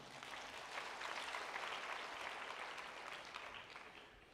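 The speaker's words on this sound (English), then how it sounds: "You can clap for Levi." An audience claps together for a man called Levi at a talk on marriage and intimacy, a steady dense crowd applause that holds evenly throughout at moderate loudness, with no one speaking over it.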